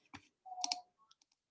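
Computer mouse clicks sound as a few faint, quick, isolated taps in a quiet room, spread across a second and a half.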